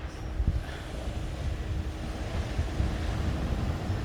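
Ocean surf at Vero Beach rumbles steadily as a dense, continuous wash, heavily mixed with wind buffeting on the microphone and no voices.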